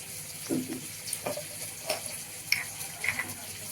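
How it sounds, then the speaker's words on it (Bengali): Onions fry in a pan with a soft sizzle under scattered stirring scrapes and light utensil taps, close and fairly quiet. "এখন একটু পেঁয়াজটা ভাজতে দিয়েছি"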